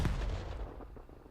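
Grenade blast in Call of Duty during a competitive esports match: one sharp, loud boom that decays quickly into a rumbling tail, heard alone.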